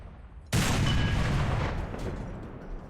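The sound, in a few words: SU-100P self-propelled gun firing shells in War Thunder (video game)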